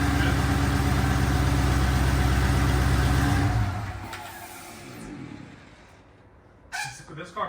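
A 2022 Dodge Charger SRT Hellcat runs with a loud, steady low engine rumble for several seconds before dropping off to a quieter idle or fan hum, with brief clattering sounds near the end.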